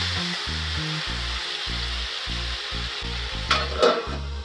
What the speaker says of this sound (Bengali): এবার এর মধ্যেই একই তেলের মধ্যে পটলগুলোকে দিয়ে দেব, দিয়ে ভেজে নেব।